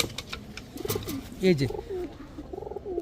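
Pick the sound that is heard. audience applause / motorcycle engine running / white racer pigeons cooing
white racer pigeons cooing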